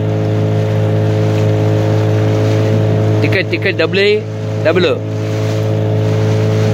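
A motorboat engine on the Ganges at Kashi drones steadily and loudly throughout, close by, while people speak over it partway through.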